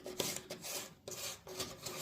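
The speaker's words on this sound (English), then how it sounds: "just get down there and scrape all of this old stuff off of there. I use an Explorer." A dental explorer pick scraping old, flaking wood off a surface before epoxy repair, a quiet close-up run of short, rhythmic rasping strokes, about five in two seconds.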